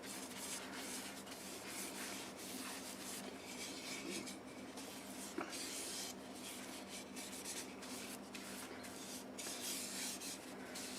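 Wood finish is rubbed by hand into a turned wooden bowl, making a continuous close, dry rasping friction that stays fairly even throughout with slight rhythmic swells and no talking.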